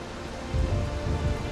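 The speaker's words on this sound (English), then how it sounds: "It's getting extinguished by the rain." Rain in the video game Valheim falls in a dense, steady hiss that thickens into heavier low rumbling patter partway through, close and continuous with no voices.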